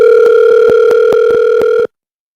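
A steady telephone dial tone hums loudly and continuously for nearly two seconds, then cuts off abruptly into silence.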